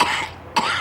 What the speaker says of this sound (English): it's a little difficult to tell with you coughing like that